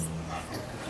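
A pet dog gives a short whimper close by, a brief thin whine over faint room noise.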